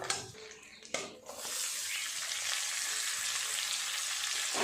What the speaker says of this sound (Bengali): পেঁয়াজটা একটু নেড়ে চেড়ে ভালো করে লাল লাল করে ভেজে নেব